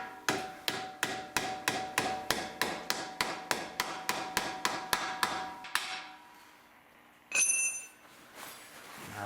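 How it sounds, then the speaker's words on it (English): A hammer strikes a metal part about fifteen times at an even rhythm, each blow close and ringing briefly, before stopping. A short clatter follows, then quiet. "you can just go along with it with the hammer. Just go along with it easy"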